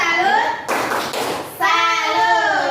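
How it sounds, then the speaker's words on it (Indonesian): An audience in Indonesia does the tepuk salut rhythmic clap, a short sharp burst of clapping between stretches of a voice speaking loudly close by. "Kita beri dulu tepuk salut."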